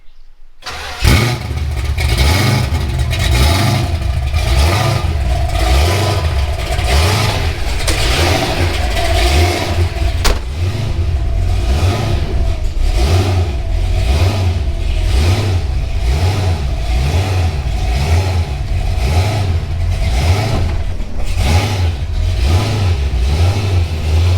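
A 1969 Dodge Super Bee engine runs loudly and steadily, revving up and down in a regular rhythm throughout, with no voices, as the car is loaded into a trailer.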